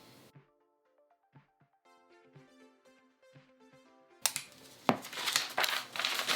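Fabric being cut for a simple sewn skirt: scissor snips and crisp crinkling and rustling of cloth, sparse and quiet at first, then a louder stretch of rough crumpling and tearing-like handling near the end, with no talk.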